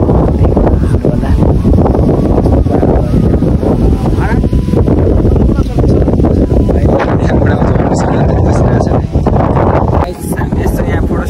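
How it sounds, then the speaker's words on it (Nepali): Strong outdoor wind roars and buffets the microphone in a steady, loud rush for the whole stretch, with people talking underneath it. "मिठो हावा चल्दैछ"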